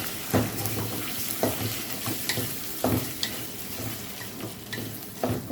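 Rice and soaked chickpeas sizzle and fry in a pot while a spoon stirs them, giving several scraping strokes over a constant crackle, close up.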